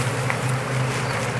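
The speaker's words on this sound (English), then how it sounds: "So all these are new, new bees" Honeybees at a newly installed hive give a steady low buzz, close and continuous for a brief moment, with no talking.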